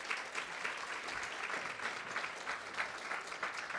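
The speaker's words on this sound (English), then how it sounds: "a round of applause for our president" An audience at a business breakfast claps for the president, a moderate, fairly distant round of applause with a lightly pulsing rhythm that carries on steadily without speech.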